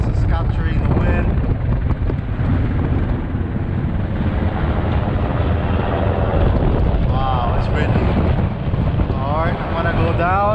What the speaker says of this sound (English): Yeah, so it's capturing the wind.